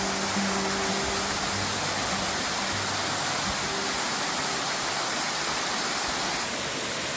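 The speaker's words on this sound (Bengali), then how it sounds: "3টে স্টেপ দিয়ে পড়ছে জলটা।" Monsoon-swollen waterfall dropping in three steps at Duka Valley, Kalimpong, a steady, full roar of rushing water filling the whole clip without a break.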